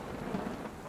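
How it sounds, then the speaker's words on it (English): Heavy rain pours steadily in a thunderstorm, a dense continuous wash with a low rumble of thunder rising briefly underneath, loud and close with no voices. "a massive storm starts to blow in from the east. It is raining hard"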